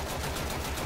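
Rapid automatic gunfire from a Warframe match, a dense continuous burst of shots that is loud and close with no pauses.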